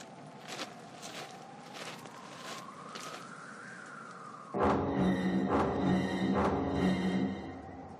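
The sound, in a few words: footsteps walking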